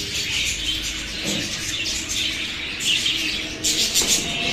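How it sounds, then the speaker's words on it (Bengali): Baby doves call in a busy bird shop in Magura, soft repeated chirps and cooing amid faint background bird chatter, moderately close. "যে একটি বেবি সে ঘুঘু পাখি আছে দেখুন কি সুন্দর ডাকাডাকি করতেছে"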